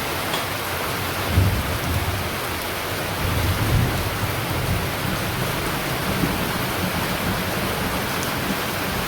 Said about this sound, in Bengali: বৃষ্টির জল অনেক ঠান্ডা